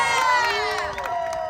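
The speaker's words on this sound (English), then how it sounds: "So give yourselves a round of applause." A large outdoor immigrant-rights march and rally crowd in Santa Monica cheers and shouts loudly and continuously, with whoops and high voices rising over a dense wall of crowd noise.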